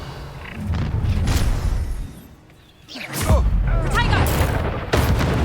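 Spells fire in Hogwarts Legacy, where the Confringo fire spell lands as a series of heavy booms and thuds with whooshing swishes between them. The blasts come close and loud, with a brief lull partway through.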